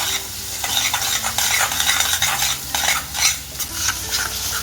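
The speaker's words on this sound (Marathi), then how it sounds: "ह्यामध्ये आपण आहे ना जे वाटण केलं होतं ना ते घालून घेऊया आणि हे पण आपल्याला छान असं आता परतून घ्यायचं आहे" Ground masala paste sautéed in hot oil, a loud close sizzle with repeated scraping strokes of a spatula stirring through the pan, no speech.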